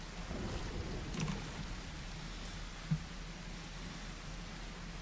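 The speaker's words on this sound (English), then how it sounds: "It rains so much in this game." Steady rain falls in a video game, a soft continuous hiss of drops with a low rumbling bed underneath, faint and even throughout, with a brief dull knock near the end and no speech.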